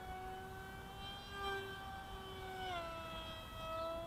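RC F-22 pusher-prop model jet flying overhead, a steady high whine with clear harmonic tones that shift in pitch as it passes and banks, continuous and moderately distant, no talk.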